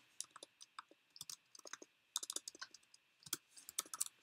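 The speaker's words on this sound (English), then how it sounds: "My typing is getting so bad." Fingers type on a computer keyboard while writing Python code, quiet irregular bursts of crisp key clicks and taps close to the microphone, with short pauses between flurries.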